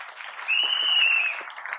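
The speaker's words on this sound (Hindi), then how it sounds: "एक ताली बजानी चाहिए सर्वेश सर के लिए।" Brief burst of audience clapping at a talk honoring a colleague, short and fairly close, with a whistle-like tone rising over it midway.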